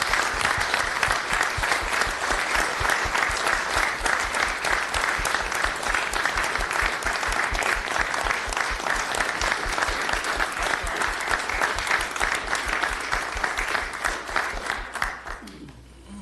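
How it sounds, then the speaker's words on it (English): Sustained, dense applause from an audience at a city commission meeting, steady and loud for about fifteen seconds before tapering off at the end. "I would like us to give this class a round of applause for 20"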